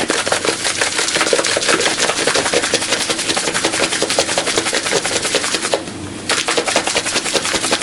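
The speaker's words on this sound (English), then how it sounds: "we'll mix that up here, and we'll shake it to combine everything." Hot spices are shaken in a closed container to combine them, a loud, steady, rapid rattling that runs several seconds, with a brief break near the end before resuming.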